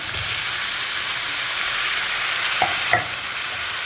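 Onions sauté with rock salt in a pan for fish curry, giving a steady close sizzle and hiss with a couple of brief stirring scrapes near the end.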